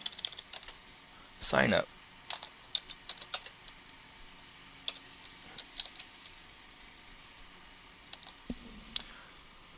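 Computer keyboard typing at a desk, scattered quick clicks and a short dense burst of keystrokes near the start, close and fairly quiet, with someone speaking briefly over it.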